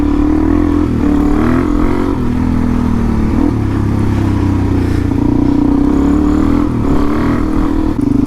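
Steady, loud engine roar from an adventure motorcycle on the road, with traffic noise and clattering mixed in throughout.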